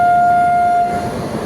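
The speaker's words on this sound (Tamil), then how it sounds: "இப்போ ட்ரெயின் வந்து இன்ஜின் மாற்றிட்டு இருக்காங்க." A train horn sounds at Visakhapatnam railway station while the engine is being changed, a loud sustained tone that cuts off after about a second over a low rumble of station and rail noise.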